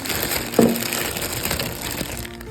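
A brief clatter as grapes are dumped into a bowl, with one sharper hit, then softer rustling and handling noises nearby.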